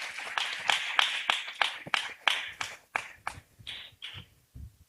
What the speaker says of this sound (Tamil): அந்த தம்பிக்கு ஒரு கைத்தட்டு கொடுத்துடலாமா?